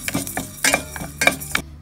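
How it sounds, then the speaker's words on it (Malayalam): Mustard seeds, fenugreek and asafoetida roast in a hot pan for a lime pickle, with a handful of sharp spoon strokes and scrapes against the pan over a faint sizzle. "ഇനി നമുക്ക് കായം കൂടെ ചേർത്ത് കൊടുത്തിട്ട് ഇളക്കിയെടുക്കാം."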